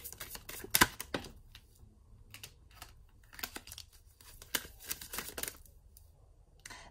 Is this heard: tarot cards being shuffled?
yes